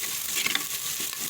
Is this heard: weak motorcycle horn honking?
no